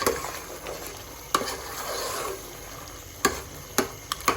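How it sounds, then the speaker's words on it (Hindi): Tomatoes are mashed and fried with a spoon in a chicken karahi, a low steady sizzle under a few sharp clicks and scrapes of the utensil against the pan, close and fairly quiet. "ये देखें ऐसे ऐसे करके टमाटर मैश करने हैं और हमने इसको भूनना है।"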